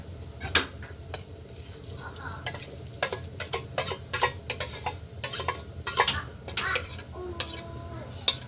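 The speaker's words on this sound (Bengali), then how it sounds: "আমি যে বাঁধাকপিগুলো ভেজে রেখেছিলাম দিয়ে দেব।" A spoon stirs fried cabbage into khichuri in a pot, giving repeated clattering scrapes and metal knocks over a faint sizzle, close and moderately loud, with no talking.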